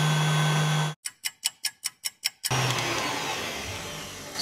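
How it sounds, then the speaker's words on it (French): A food processor mixes flour into a cake batter at home, a steady close whirring motor that cuts off, gives a quick run of short pulsed bursts, then settles back into a continuous hum. "Je mets ça dans mon robot. Et on va remélanger pendant quelques instants avant d'ajouter notre chocolat."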